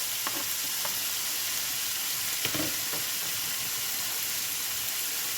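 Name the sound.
onions frying and sizzling in a pan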